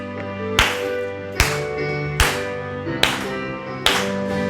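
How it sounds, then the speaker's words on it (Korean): A church congregation at a Trinity Sunday worship service clapping in unison while singing a hymn: sharp, evenly spaced claps roughly every second ring out over sustained accompaniment chords. "우리가 함께 박수치며 찬송합니다"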